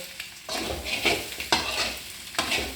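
Boiled eggs and masala frying in a pan for egg pepper fry, stirred in repeated scraping strokes, each stroke a burst of sizzle over a low background crackle, close and moderately loud.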